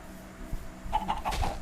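A Minecraft chicken clucks a few quick times in a row, short and fairly close, over a low background hum.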